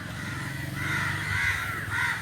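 Several crows near electric wires caw repeatedly in harsh, overlapping calls, fairly close and loud, with steady outdoor background and no talking.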